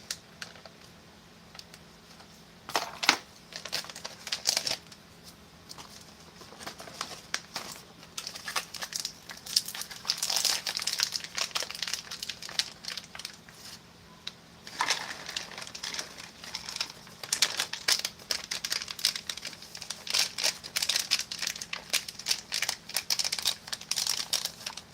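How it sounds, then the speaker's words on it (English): Plastic packaging of a Chilean 2019 Black Line Daff ration, Menu 6 Salmon Paella, is cut open and handled, giving steady close crinkling and crackling with rapid irregular clicks and rustles that stop for a moment partway through. "I'm just going to cut this open from the other end"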